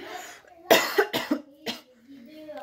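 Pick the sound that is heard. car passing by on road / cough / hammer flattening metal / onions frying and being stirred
cough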